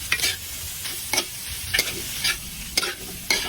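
Beef dinuguan is sautéed and stirred in a pan, producing a continuous sizzle with regular rhythmic scraping strokes of the spatula roughly every half second.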